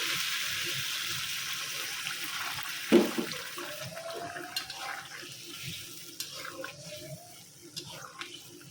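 Water is poured into a pot of sweet pumpkin curry on the stove, a close, steady rushing pour in the first few seconds, followed by quieter bubbling and occasional utensil taps.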